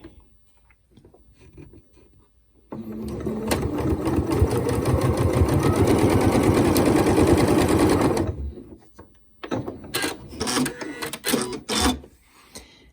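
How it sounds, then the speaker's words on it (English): Close by, a sewing machine with a quarter-inch foot stitches half-hexagon quilting fabric pieces together in one steady, rapid burst of about five seconds, followed by scattered clicks and fabric handling noises. "So now I'm gonna sew these together."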